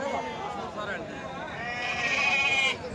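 Sheep bleat at a busy village sheep and lamb market in Hindiganala, with drawn-out wavering calls rising over a steady crowd murmur while someone talks nearby throughout.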